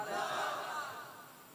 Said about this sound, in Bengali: পেছনে যারা চেয়ারে বসে আছেন তাকবীর দেন, নারায়ে তাকবীর